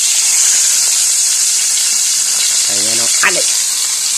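Emperor fish (mamadas) frying in a pan at night, a steady loud broadband sizzle running throughout, with a brief voice speaking over it near the end.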